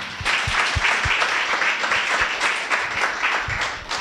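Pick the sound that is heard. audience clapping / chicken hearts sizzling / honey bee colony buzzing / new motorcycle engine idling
audience clapping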